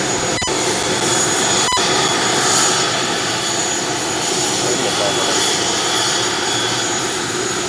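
Aircraft engine noise at an airport: a loud, steady jet roar fills the scene throughout, with a brief clicking at the start.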